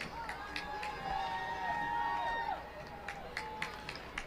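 Rowing fans on the Cambridge shore at the Head of the Charles regatta cheer and clap in scattered bursts, with whistle-like tones and nearby talking over the crowd noise.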